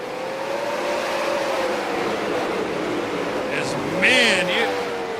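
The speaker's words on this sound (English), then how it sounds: "These late models sound like effing weed whackers." Super late model race cars in the iRacing video game, a continuous droning engine whine with pitch swells as cars pass, under a commentator's steady talk.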